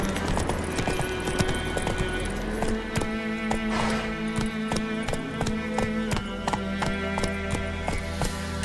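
Hooves of the horse Roach in the video game The Witcher 3 gallop with a quick, steady clip-clop rhythm, close and continuous, with no talk.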